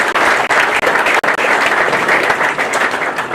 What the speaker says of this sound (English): Let's give those 6 sponsors a round of applause